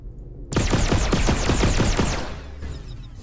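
A pistol fires in the VR video game Red Matter 2, a weapon that overheats, letting off a loud rapid string of about ten evenly spaced shots before the sound tails off into a quieter echo.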